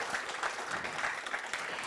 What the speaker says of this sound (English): So please give one more round of applause to all of our panelists